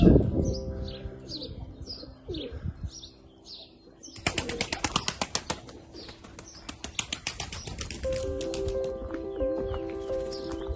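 Turkish game pigeons coo and flutter nearby, with a burst of rapid wing flapping in the middle and soft chirps scattered throughout.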